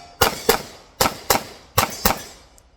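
A Tisas PX9 pistol with a compensated barrel fires six loud, close shots at an outdoor range, in three quick pairs spaced about half a second apart.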